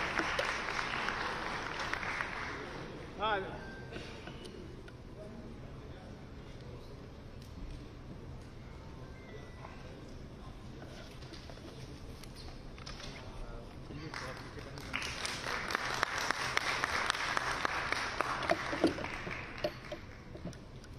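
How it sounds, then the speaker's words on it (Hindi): Audience applause welcoming the mayor at a public green bond listing ceremony in Bhopal, a burst of crowd clapping at the start, then a quieter stretch with room noise, and a second louder swell of applause later. "आइए ताली के साथ स्वागत करें श्री पुष्पमित्र भार्गव जी"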